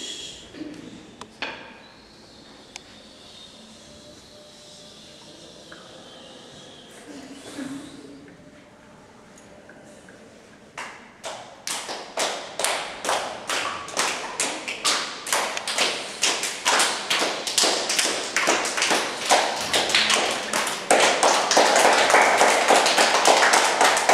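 Improvised rain imitation in which a group taps and claps, starting with sparse, quiet taps and then building after a lull into a rapid, dense, loud patter of claps and taps that grows steadily stronger toward the end.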